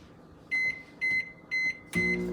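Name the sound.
microwave oven heating white chocolate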